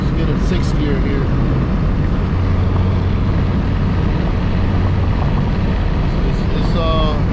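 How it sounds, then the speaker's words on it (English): A cammed Corvette C5 engine drones loud and low from inside the car as it is driven through sixth gear, with a voice speaking over the continuous rumble. "Let's get a 6th gear here."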